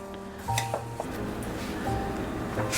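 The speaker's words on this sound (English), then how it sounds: "Mix everything in." Granola ingredients being mixed in a bowl, with quiet scraping and a few light clinks of a utensil against the bowl over a low background hum.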